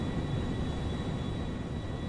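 A Concorde jet airliner mod flies in GTA 5, a steady loud roaring engine drone with a thin high whine holding constant, no talking.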